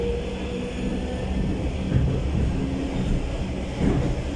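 A suburban electric commuter train rolls along, its steady rumble carrying a faint rhythmic clatter of wheels over rail joints, heard from inside a carriage with no talking.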